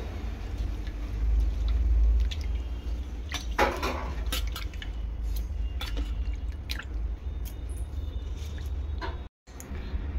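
Raw fish being rinsed with water in a vessel and then drained: wet squishing, splashing and dripping, with occasional clinks of the bowl, close and intermittent over a low background hum.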